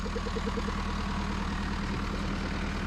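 A Z-Tor 7341 tractor idles while hitched to a hay baler, its engine giving a steady low chugging rumble with an even pulsing rhythm, close and continuous with no talk.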